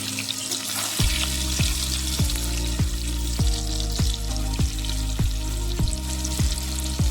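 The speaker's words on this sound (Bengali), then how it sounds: "তেলটি গরম হয়ে যাওয়ার পর তাতে হলুদ গুঁড়ো এবং লবণ দিয়ে দিলাম।" Turmeric powder and salt hit hot oil in a pan for a chicken curry, giving a loud, close, continuous sizzle with repeated sharp scraping strokes roughly every half second, with no talk.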